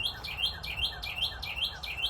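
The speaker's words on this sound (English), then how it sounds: "These birds are telling me I need to go lay down." Birds chirp in quick repeated bursts of high, bright tweets at a steady pace, close and fairly clear over a soft background, with no talk.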